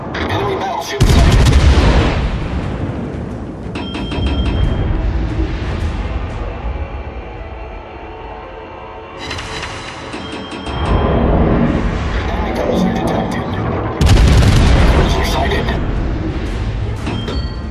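Warship artillery in World of Warships booms in three heavy salvos, each a loud broadband blast with a long rumbling tail, separated by quieter stretches of engine and ambient game noise.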